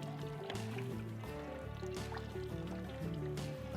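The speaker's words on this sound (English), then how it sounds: "So here we have what's called a Petcock that you open up to let the fluid come out, and our drain pan is actually a bucket." Coolant drains from a tractor radiator petcock into a bucket, a steady close trickle and gurgle of liquid falling into fluid that runs continuously, with occasional small splashes.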